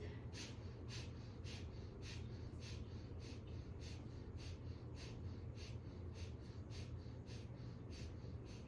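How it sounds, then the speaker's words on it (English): Rapid rhythmic yogic breath of fire, a quick steady train of sharp nasal exhalations about two per second, faint and close over a low background hiss. "Keep going, breath of fire"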